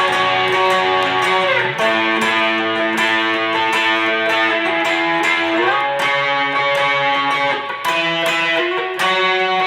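Distorted electric guitar with effects strums a slow sequence of chords, each ringing out before the next, loud and continuous with no talking.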